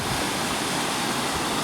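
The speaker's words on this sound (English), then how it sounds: "there you can see the weir" Water pouring over a river weir at the bottom of the Cundall Lodge stretch, a constant, loud, broadband rush with no breaks and no voices.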